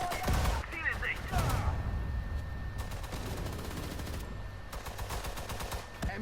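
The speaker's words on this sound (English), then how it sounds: "MG geölt und einsatzbereit. Feuer! Feuer!" Machine gun fire in the WWII strategy game Sudden Strike 4 on PS4 Pro, sustained rapid bursts at mid distance, with a voice calling out in the game over the gunfire.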